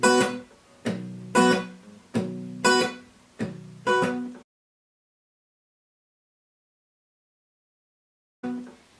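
Five strummed guitar chords from a song with sharp, percussive muted attacks in a steady rhythm, then silence before one more strum at the end.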